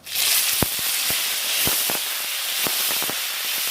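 Whole mustard seeds and cumin paste sizzling in hot oil: a steady loud hiss with sharp popping crackles scattered irregularly throughout, close and without talk.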